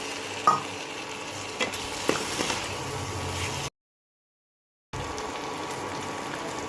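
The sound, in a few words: prawns sizzling as they are stir-fried in the pan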